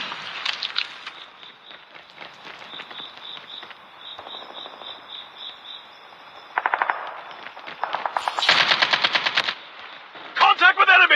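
Rapid automatic gunfire from a sentry gun in the mobile shooter Call of Duty Mobile, loud bursts of rattling shots repeating over several seconds with other game effects and a voice in the background.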